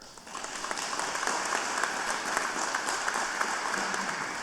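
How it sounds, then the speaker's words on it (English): A live audience claps together in steady, dense applause that holds for several seconds at a moderate level, with no talk over it. "Let's right now give them a round of applause for what they have done for America."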